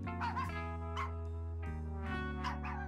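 Trained puppies in a Barbie cartoon bark and yip in several quick bursts, loud and close, with a soft whimpering tone between the barks.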